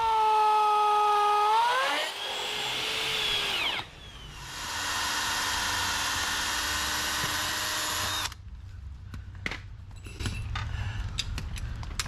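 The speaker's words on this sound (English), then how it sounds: "we're going to drill 2 new holes" A power drill bores anchor holes into concrete for a new garage door sill, running in long, loud, steady whining bursts with pitch shifts as it starts and slows, followed by clattering and scraping.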